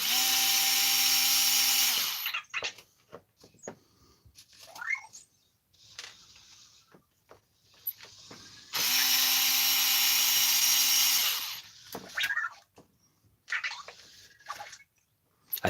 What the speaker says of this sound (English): I'm going to take these 2 screws out to pull the pins and show you how this section is pulled apart.